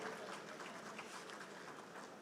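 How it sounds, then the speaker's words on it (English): Conference audience in a hall at the Nigerian Society of Engineers conference applauding steadily, a dense, even wash of many hands clapping throughout with no pauses. "please a round of applause for her as she comes up."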